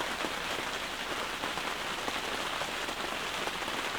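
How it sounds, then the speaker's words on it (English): Rain patters steadily on a canvas bell tent overhead, a constant dense hiss of drops close by. "Got some rain moving through."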